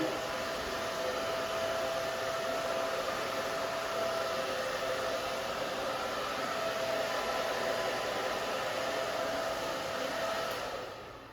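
A hair dryer blows steadily at close range while drying a short textured pixie cut on thinning hair, a continuous loud airy whoosh with a faint motor whine that holds for about ten seconds before tailing off at the end.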